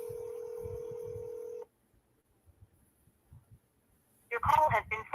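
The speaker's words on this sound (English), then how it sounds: "I'm calling you again, Betty." Telephone call being dialed: a steady dialing tone holds for about a second and a half, then cuts to near silence, followed by a burst of ringback or connecting tones at the end, with faint voice-like murmur underneath.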